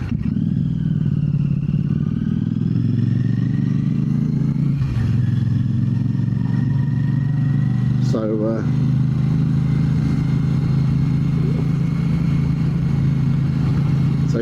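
Royal Enfield Classic 650 motorcycle with an aftermarket exhaust, its engine idling in a steady low drone throughout, close and loud, with a brief clatter midway and a person talking over it.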